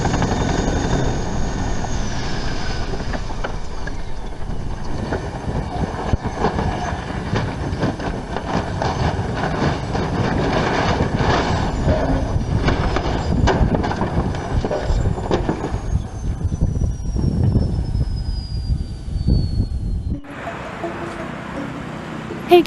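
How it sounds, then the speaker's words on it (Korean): A helicopter spins out of control and crashes while trailing black smoke. A loud, steady roar of rotor and engine noise runs for about twenty seconds with a thin whine sliding downward, then cuts abruptly to a quieter, different sound. "헬기 한 대가 검은 연기를 내뿜고 빙글빙글 돌면서 추락하고 있는 믿기 힘든 놀라운 순간이 포착되었습니다."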